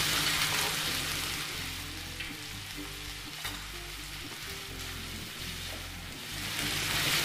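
Cashews frying over medium flame in a pan, a continuous close sizzle with soft occasional stirring, steady and without voices.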